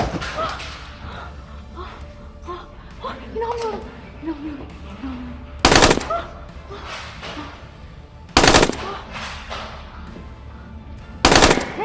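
Gunfire in a first-person escape video game: three loud, sharp shots spaced a few seconds apart, each standing out clearly above game music and a voice talking in the background.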